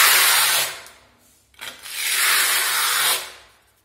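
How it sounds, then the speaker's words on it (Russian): A steel trowel spreads and levels decorative marble-effect plaster on a wall, giving two long, close, scraping rubs separated by a brief pause, with no talking. "Дальше берем кельму. Выравниваем слой."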